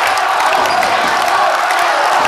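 Loud, dense crowd roar at a Bulgarian handball semifinal between Tundzha Yambol and Levski Sofia, a steady wall of cheering that fills the hall with no breaks.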